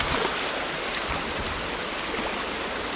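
River water racing under a bridge toward a sill and drop, a steady loud rushing roar that fills the whole clip without pause, close by, with no voices.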